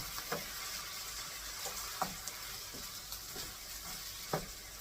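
Six eggs and bacon stirred together in a hot frying pan, a steady close sizzle with occasional soft scrapes and taps of the utensil against the pan.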